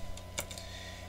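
Keys tapped on a computer keyboard while setting a point size in InDesign, a short burst of a few quiet clicks near one another over a faint background hum.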